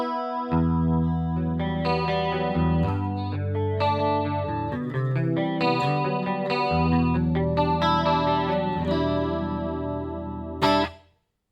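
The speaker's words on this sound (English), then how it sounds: "Now let's listen to the chorus and all the effects on top of this tone itself." Electric guitar through a Joyo DC15S practice amp with chorus, playing sustained chords and melodic lines with a shimmering, slightly distorted tone for several seconds before cutting off abruptly, with nobody speaking.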